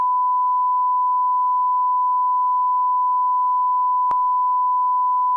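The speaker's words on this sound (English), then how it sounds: "I'll censor it with a censor beep." A steady, loud, pure-tone censor beep holds unbroken throughout, with a single sharp click partway through and nothing else audible.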